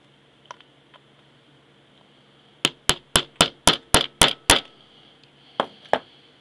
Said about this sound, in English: In this case, I'm going to go ahead and hit it with a hammer.